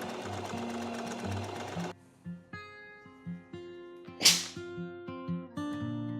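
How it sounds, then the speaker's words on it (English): Sewing machine stitching the front of a bodice and its ties: a steady run of rapid mechanical stitching, then short stop-start bursts as the seam is sewn back and forth, with a sharp snap partway through; close and clear. "I'm just sewing down the front and making sure to go back and forth over the ties to secure them."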